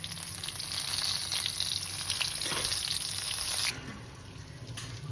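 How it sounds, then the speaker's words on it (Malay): Shrimp coated in fried chicken flour crackle and sizzle steadily in a hot pan, a dense close hiss that drops to a softer sizzle partway through. "Kita akan goreng dulu udang kita dengan mancuhan tepung goreng ayam je lah."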